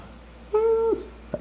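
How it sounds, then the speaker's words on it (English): A French bulldog gives one short, high, nasal squeak, then a tiny second chirp, heard close over a quiet room hum with no talking. "our dogs are squeaking. We have Frenchies and they make the noises."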